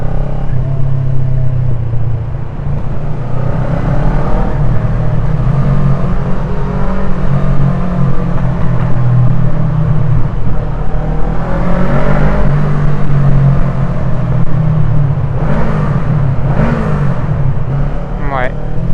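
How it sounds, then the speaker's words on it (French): A motorcycle rides through a tunnel with a loud, steady engine rumble that fills the whole stretch, and voices talk over it now and then. "On va passer dans le tunnel, on va entendre la moto faire du bruit."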